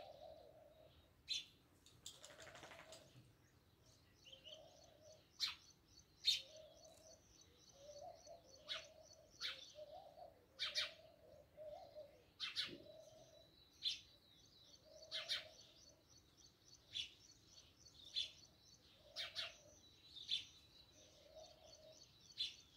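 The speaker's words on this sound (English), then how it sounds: "There's a bird sitting right above me chirping." Small bird chirping from a perch just overhead, repeated short bright calls in an irregular rhythm across the whole stretch, close and clear over a quiet outdoor background, with no talking.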